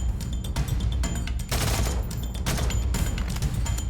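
Rapid, dense bursts of gunfire from a Thompson submachine gun in a shooter video game fill the whole stretch, loud and close, with barely any gaps between the volleys.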